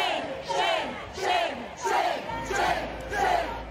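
A protest crowd in Minneapolis jeers and boos the city's mayor, loud massed voices rising in repeated swells of shouting, filling the space at close range.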